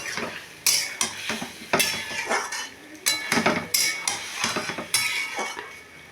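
Pointed gourd and potato pieces stirred in spice paste in a pan, with repeated scraping strokes of a spoon against metal and a soft sizzle, close and fairly loud, with no talking.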